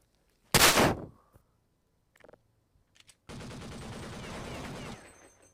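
Desert Eagle pistol fire in Counter-Strike 2: one loud sharp shot, a few faint clicks, then a dense sustained burst of rapid gunfire.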